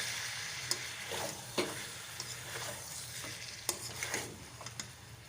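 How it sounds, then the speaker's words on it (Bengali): Chicken liver and gizzard sauté with meat masala in a pan, a faint steady sizzle with scattered scrapes and taps of a spoon stirring, heard close up with no voices. "এবার আমি এটাকে ভালো করে কষিয়ে নিচ্ছি।"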